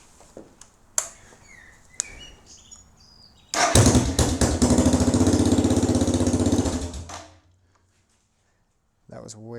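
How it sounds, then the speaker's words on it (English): A Suzuki DR650 motorcycle with its exhaust removed starts after a few clicks and bangs, then barks loudly in a raw, rapid-firing idle for about four seconds before shutting off into silence. "Now I think it's mandatory to give the bike a start up with no exhaust on,"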